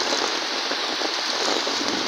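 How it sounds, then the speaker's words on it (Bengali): Heavy rain falling just after a windstorm, a dense, loud, continuous hiss of drops striking surfaces without letup. "খুব জোরে বৃষ্টি হচ্ছে।"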